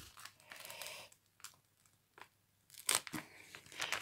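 Transfer tape peels away from rose gold vinyl in a few close, quiet crackling and tearing bursts separated by near silence, with a louder rip toward the end.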